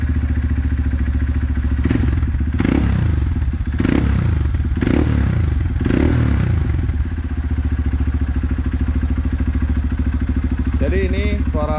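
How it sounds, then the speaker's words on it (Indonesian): A Honda CRF 150L fitted with a Perfect Power aftermarket exhaust runs close by, its low, steady engine note broken by several rev-like bursts with clattering in the middle, and a voice comes in briefly at the end. "Coba kita nyalain cek sound Wit."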